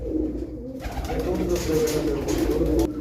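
Pigeons of a prized pure-bred line coo in a loft where chicks sit in a cage, a steady low murmur of cooing with a brief louder burst, close by, alongside people talking nearby.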